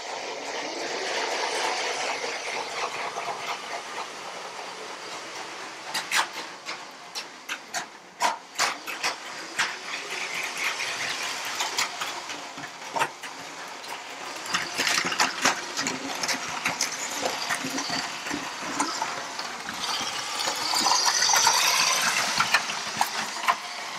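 A Lego City 9V toy train runs through a layout, giving a steady close mechanical whir with dense rapid clicking and rattling from wheels on plastic track, rising slightly toward the end, with no talk.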